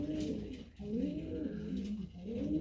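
Pigeons in a loft give low, rolling coos that repeat steadily and overlap, close and moderately loud, over a faint background murmur.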